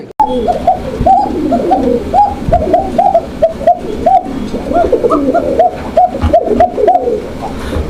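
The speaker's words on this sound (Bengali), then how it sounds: "এখানে একজোড়া কোকা কবুতর আছে, অনেক মিষ্টি ডাকের, মিষ্টি সুরের" Koka pigeons coo repeatedly in soft, rhythmic rounds close by at a pigeon market, a steady series of low throaty calls with faint background noise.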